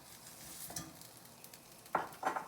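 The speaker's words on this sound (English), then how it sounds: "we're going to heat back up, and we're going to add the olive oil" Olive oil heating in a pan, a faint low hiss with two crisp sizzling spatters near the end, close and quiet with no talk.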